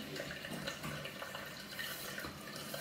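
A Gillette Mach 3 Turbo razor is rinsed under a running tap, a steady close hiss of flowing water with small splashes and clinks, no talking.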